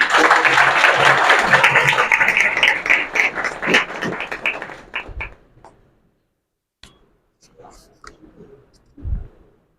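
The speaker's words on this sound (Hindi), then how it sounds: "जोरदार तालियां गोविंदा सर के लिए।" A room of people claps loudly for a few seconds at a small gathering, the applause thinning and dying out, followed by near silence with scattered faint taps and murmurs.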